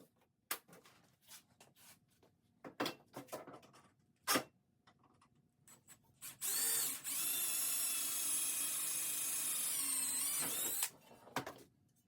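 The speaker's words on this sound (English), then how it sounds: "I just need to get some mounting holes drilled, both for going up into the countertop and then also into the Airstream sidewall" A drill bores mounting holes for an Airstream bar counter, running steadily for about four seconds with rising whine. Scattered clicks and handling knocks come before and after the run, and nobody speaks.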